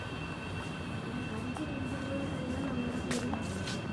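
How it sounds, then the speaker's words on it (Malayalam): A Riyadh Metro train rolls into the station with a steady mechanical rumble and a high tonal whine, joined near the end by brief hissing bursts, loud and close throughout with no talk. "ഞാൻ ട്രെയിനിൻ്റെ ഒച്ച കേട്ട്"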